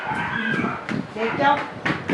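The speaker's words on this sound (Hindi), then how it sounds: "तो कुत्ते डोगी भौंक रहे" Dogs barking around a home where a goat is kept, giving short, sharp barks and yips in bursts mixed in with someone talking.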